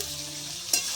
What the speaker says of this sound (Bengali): সবজিগুলো ভালো করে ভেজে নেব পেঁয়াজের সঙ্গে